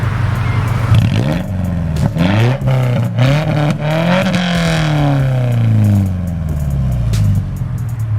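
A Subaru engine with a cheap metal straight-pipe exhaust is revved hard in a garage, with repeated rising and falling sweeps and a long pull near the middle, loud and close with no talking.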